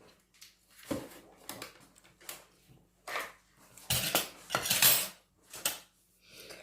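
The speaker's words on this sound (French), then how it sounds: "Je mélange. Et je rajoute un yaourt." Metal utensils clink and scrape against a bowl as cake batter for a marble cake is mixed and yogurt is added, in uneven bursts of sharp knocks, close and fairly loud, with quiet gaps between.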